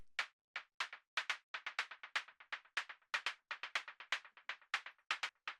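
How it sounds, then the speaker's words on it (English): Synthesized percussion from an Ableton Operator synth in a melodic techno track. Quick, bright clicky hits fall in a busy, syncopated pattern, fairly quiet and with no speech. "So this is actually some more synthesized percussion."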